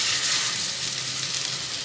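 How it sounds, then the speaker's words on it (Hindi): Seekh kebabs frying in a pan of hot oil, a loud, dense, continuous sizzle heard close up with no voices over it. "मैं आपको बताती हूँ कि किस तरह फ्राई करना है"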